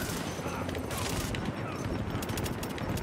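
Rapid bursts of automatic gunfire in the video game The Division, dense and loud with brief pauses between volleys.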